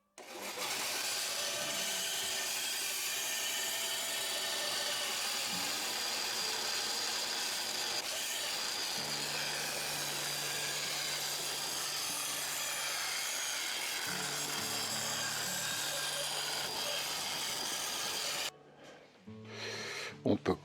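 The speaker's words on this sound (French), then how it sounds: "On va redécouper ça à la scie à ruban." A band saw cuts pink ivory wood in a steady, loud, continuous rasp that runs for about eighteen seconds, then stops abruptly, leaving brief quiet with a couple of knocks.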